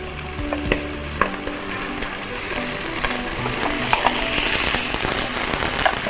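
Rice tipped into deeply caramelized onions in a hot pan, loud continuous sizzling with clattering stirring and scraping, hiss swelling in the second half.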